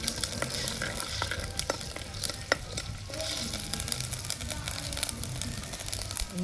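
Ginger paste fries in sesame oil with a steady, close crackling sizzle, dotted with small pops and occasional stirring scrapes.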